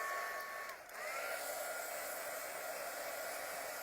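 A hair dryer blows steadily on a decoupaged napkin glued to an aluminum pail, a loud continuous whir that dips briefly as the airflow shifts, then runs on evenly.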